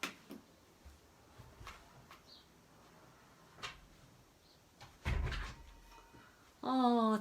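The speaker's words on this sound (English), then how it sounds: "I'll close the door now so we'll have quiet." A door is pulled shut indoors, a solid thud with a brief rattle, fairly close and moderately loud, set among quiet room noise and a few faint knocks, with a voice speaking at the end.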